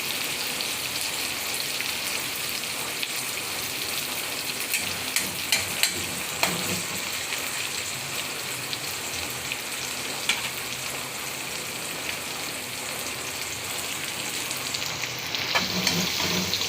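Chicken fries in a pan for pansit, a dense, steady crackle and sizzle with occasional sharper pops and scraping stirs, close and continuous without talk.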